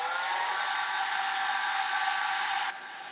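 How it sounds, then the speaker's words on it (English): Embossing heat tool blowing hot air onto a stamped card, a steady, loud, broadband whoosh that runs continuously and then drops slightly in level near the end, with no talking. "Right, I'm just going to heat this up. Apologies if I make a lot of noise."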